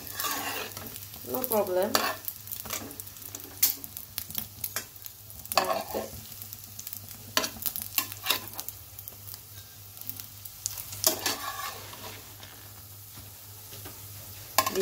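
Food with egg is stirred and fried in a pan in a home kitchen in the morning, giving steady close sizzling with repeated scraping strokes of the utensil. A voice speaks briefly.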